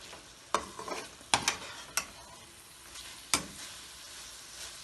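Black-pepper minced meat is stir-fried on full flame: a low, soft sizzle broken by sharp, irregular spatula scrapes and clatters against the pan, heard close with no talk.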